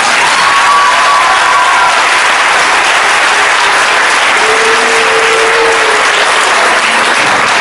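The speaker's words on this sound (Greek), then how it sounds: "Μην ξεχάσετε να δώσετε ένα πολύ ζεστό χειροκρότημα σε αυτήν που δημιούργησε" A large audience at a Christmas winter-night performance gives loud, dense, continuous applause that holds steady throughout, close and enveloping.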